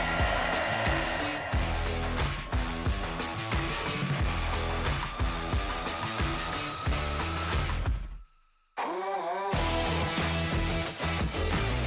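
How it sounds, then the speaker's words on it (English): Heat gun blowing to shrink tubing on butt connectors while wiring LED lights, a loud steady whirring roar that cuts out briefly near the end before starting up again. "heat up the ends of these butt connectors, and that shrink tube will go ahead and form around the wire"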